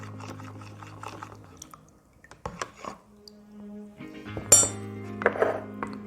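Vine leaves fermenting in a jar are stirred, giving light glassy clinks and wet knocks in short bursts, close and fairly quiet, with a soft low hum underneath.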